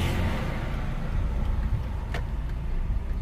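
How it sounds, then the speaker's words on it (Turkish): A car pulls away in first gear during a parallel parking lesson, its engine a steady close rumble with no speech. "Vitesimi 1'e aldım ve ilerliyorum."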